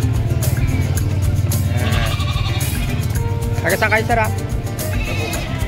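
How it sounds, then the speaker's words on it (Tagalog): Goats bleat in short wavering bursts at a busy livestock market in Malasiqui, their calls rising over a steady background din of engines and crowd noise while people talk nearby. "So, mga kambing ni sir."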